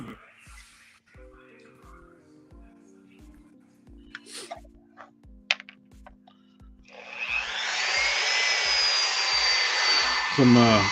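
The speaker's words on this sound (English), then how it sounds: "Time to start drilling holes." A small drill bores holes in action figure parts at a customizing workbench, with light tapping and a rhythmic pulse at first, then a steady high whirring grind that swells loud near the end.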